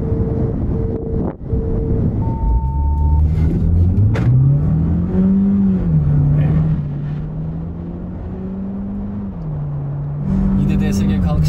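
A Mercedes A200 1.3 TCe and an Audi A3 35 TFSI with a DSG gearbox launch in a drag race, engines rising loud and close through several gear changes amid heavy wind buffeting on the microphone, with a voice speaking over it.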